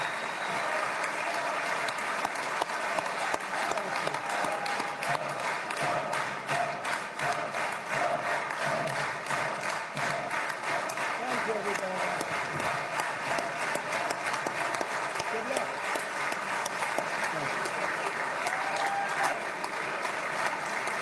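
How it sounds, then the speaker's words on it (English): Sustained applause rises in Israel's parliament, the Knesset, after President Trump's address. The crowd's clapping is a dense, even roar with some rhythmic unison clapping, and it runs unbroken for the whole stretch. "That applause is going to go on for a long time, kids."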